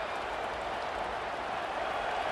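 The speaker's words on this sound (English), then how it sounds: "this home crowd is fired up and ready to make a difference today" Home crowd at a Miami versus Notre Dame college football game in EA Sports College Football 27, a dense, steady roar of cheering and clapping from a distant stadium with no pauses.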